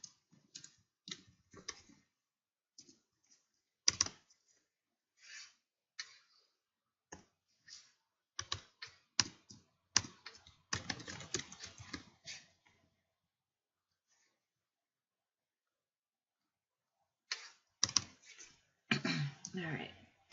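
Clicks and clatter of typing on a computer keyboard in short irregular bursts, separated by silent pauses.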